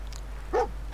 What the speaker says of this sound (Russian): Что-то он лает тут.